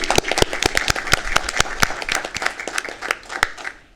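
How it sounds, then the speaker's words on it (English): A crowd at the Downey City Council meeting breaks into steady, dense applause for two honorees. The many claps are loud and close, and they thin out slightly toward the end. "So I think both Vania and Councilwoman Fermetta deserve a big round of applause"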